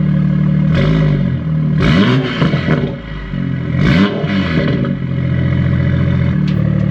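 A Toyota Supra with a Boost Logic valved exhaust and catless downpipe, valves closed, revs in loud, close bursts. Two strong rises and falls over a steady idle, with no talking.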